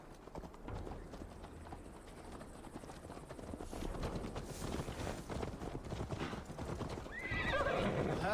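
Horse galloping in Assassin's Creed Valhalla, steady rhythmic hoofbeats that grow louder and closer, with a whinny near the end and ambient game sounds around it.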